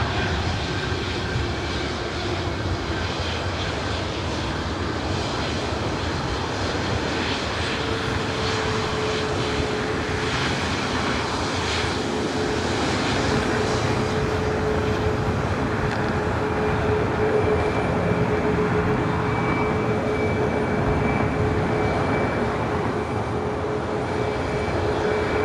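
Southwest Airlines Boeing 737 jet powering up for takeoff on runway 24 right at LAX, a steady broadband engine roar that holds loud and even for the whole stretch with a faint whine running through it.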